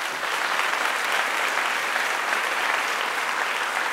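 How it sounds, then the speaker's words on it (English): At a fall opening meeting, an audience gives a round of applause: a thick, continuous wash of many hands clapping, even in loudness and unbroken by voices. "could we give them a round of applause?"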